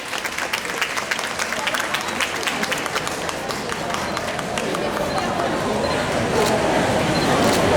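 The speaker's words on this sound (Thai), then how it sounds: "ขอเสียงปรบมือด้วยครับ" Applause from a crowd at a Thai press conference, a steady dense patter of clapping throughout with background babble, growing slightly louder toward the end.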